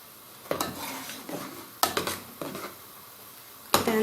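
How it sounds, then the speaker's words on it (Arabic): A spoon stirs molokhia and soup in a metal pot, scraping and clinking against the sides in a few short bursts separated by pauses, soft and close. "هنقلبها كده نشوف نظبطها كويس"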